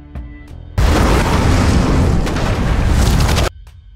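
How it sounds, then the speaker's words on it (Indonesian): Bombs dropped on a city in a monster film blast out as one massive sustained roar of explosions lasting nearly three seconds, loud and close, with faint rumbles before and after. "pesawat pengebom yang sudah dekat di lokasi langsung menjatuhkan bomnya hingga kota itu hancur"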